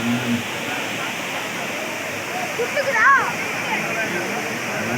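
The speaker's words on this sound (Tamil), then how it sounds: "தண்ணி அப்படியே விழுந்து அப்படியே திரும்பி விழுகிறது" A steady roar of water pouring down Courtallam Main Falls in Tenkasi district fills the scene, constant and broad, with a brief chirping sound rising briefly over it.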